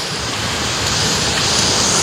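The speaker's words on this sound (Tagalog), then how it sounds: "napakalakas ng ragasa ng tubig" Floodwater roars in a loud, continuous broadband rush, close and unbroken throughout, during severe flooding in Minalin, Pampanga.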